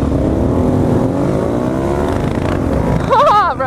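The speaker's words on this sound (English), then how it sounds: "Pull a little wheelie right there." A motorcycle engine roars and revs on a London street while the rider pulls a wheelie, rising loud and close with pitch sweeps at the end over a passing voice.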